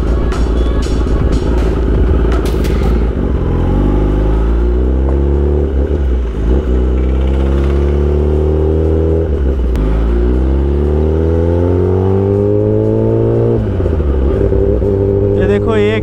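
Kawasaki ZX10R motorcycle ridden on a go-kart track, its engine revving up in repeated rising sweeps with gear changes between, loud and close throughout.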